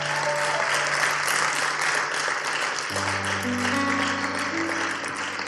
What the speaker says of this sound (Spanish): ¿Quién puede dar una ofrenda de palmas por esto?